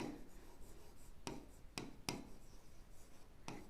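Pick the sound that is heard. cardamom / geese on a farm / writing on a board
writing on a board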